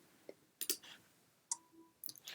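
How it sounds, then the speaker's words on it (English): Sharp mouse clicks on a Mac computer, a few isolated taps spaced apart with a brief tone in between, quiet and close with no talking. "Now I wish to right click and compress this to a zip file."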